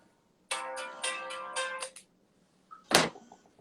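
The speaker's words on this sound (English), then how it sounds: "my phone is ringing so loudly right now, and it's not going to stop" A mobile phone ringtone rings loudly in a rapid burst of repeated bright electronic tones for about a second and a half, followed after a short pause by a sharp clattering noise.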